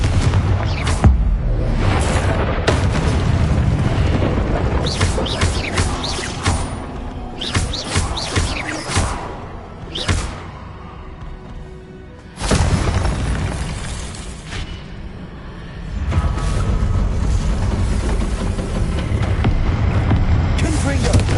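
Confringo fire spell cast in the Hogwarts Legacy video game: repeated loud, booming blasts and crackling bursts over a dense, continuous game soundscape, with brief quieter gaps between flurries.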